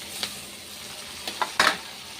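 Onion, ginger and garlic frying in a hot pan, a steady hiss of sizzling broken by a few sharp scrapes and clinks of a spatula stirring, the loudest near the end.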